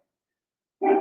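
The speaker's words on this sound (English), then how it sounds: "Sorry about the dog in the background." A single short, loud dog bark bursts out after near silence, close and clear, cut off at the end.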